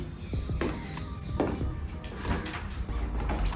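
A two-door wardrobe with drawers in a fully furnished two-bedroom flat in Koregaon Park is opened or closed, giving a few close wooden knocks and clunks against a quiet room with no talking.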